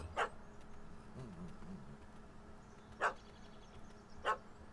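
A dog in The Witcher 3: Hearts of Stone barks in three sharp, separate bursts, one at the start and two spaced near the end, moderately loud over a low, steady game ambience.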